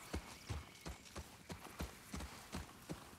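A horse's hooves clip-clop at a steady walking pace in The Last of Us Part II, about a dozen soft, even thuds, fairly quiet and clear with no talk over them.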